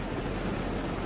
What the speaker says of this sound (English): It keeps raining harder and harder